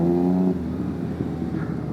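A Triumph Street Triple R motorcycle roars loudly at first, then its engine note drops and fades into a rough, steady rumble as it passes.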